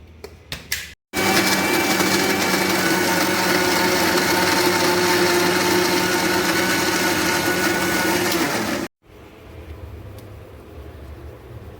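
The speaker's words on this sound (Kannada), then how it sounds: "ಬಟರನ್ನು, ಹಾಗೆಯೇ ಸ್ವಲ್ಪ ಚೀಸನ್ನು ಮತ್ತು ಮಿಲ್ಕ್ ಮೇಡ್ ಇದನ್ನು ಒಟ್ಟಿಗೆ ನಾನು ಈಗ ಮಿಕ್ಸಿಯಲ್ಲಿ ಹಾಕಿ ಗ್ರೈಂಡ್ ಮಾಡ್ತಾ ಇರ್ತೇನೆ" A mixer grinder whirs loudly and steadily for about eight seconds, churning butter, cheese and condensed milk (Milkmaid) for a Biscoff cheesecake, after a couple of brief starts, then stops abruptly, leaving quieter kitchen noise with no talking.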